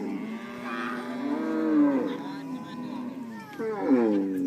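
Cattle moo repeatedly at a cattle camp, long low drawn-out calls close by, one after another with brief gaps between them.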